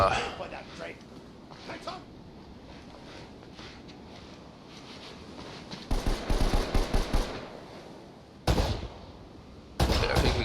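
Gunfire in the PlayStation game Uncharted: Drake's Fortune, played on PS4 via PS5: a rapid burst of repeated shots, then two shorter bursts, over low background game ambience while a player talks.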